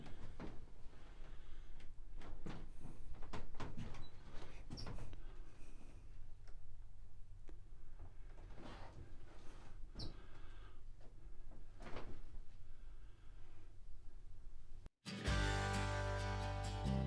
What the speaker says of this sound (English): You can hear the old wood floors creaking.